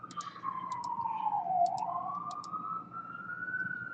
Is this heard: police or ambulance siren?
yes